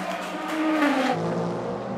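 Ferrari race car pulling onto the front straight at the 8 Hours of Bahrain endurance race, its engine note rising and sweeping past at mid distance, fairly faint and alone.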